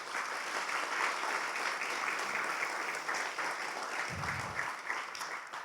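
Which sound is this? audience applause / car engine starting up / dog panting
audience applause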